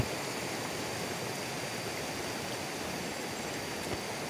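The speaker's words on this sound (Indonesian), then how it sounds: "itu adalah sungai yang kedua yang saya bilang airnya debitnya lebih tinggi" A high-flow river at Puncak Asih, Cisadap, Ciamis, one of a pair of twin streams, rushes in a steady, even hiss of flowing water, heard faintly from a distance with no voices.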